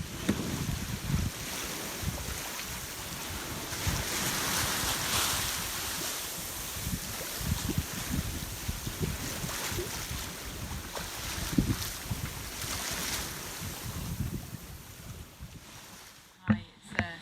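Ocean waves wash and slap against a sailing boat crossing the Atlantic toward Cape Verde, with steady wind rush and buffeting across the microphone throughout, ending in a couple of sharp knocks.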